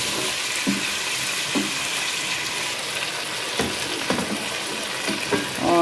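Chicken frying with garlic in a pot for an arvi chicken curry, a steady close sizzle running throughout with a few soft stirring scrapes and clinks.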